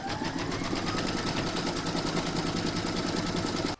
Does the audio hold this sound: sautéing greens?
no